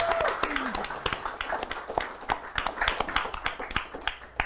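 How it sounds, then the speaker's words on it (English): A convention audience at an announcements panel applauds, with scattered claps and cheers rising over crowd murmur and staying steady throughout. "Let's have a big round of applause for Mr. Matt Kindt."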